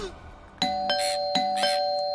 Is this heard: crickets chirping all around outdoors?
no